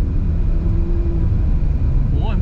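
An MG HS PHEV plug-in hybrid SUV pulls away from a standstill, heard as a steady, loud low rumble of road and drivetrain noise from inside the cabin.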